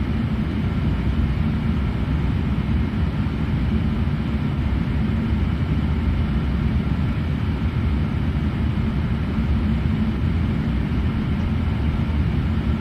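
A Boeing 747 taking off in Flight Simulator X gives a steady, loud, broadband jet roar with deep rumble, constant and unbroken, with no voices over it.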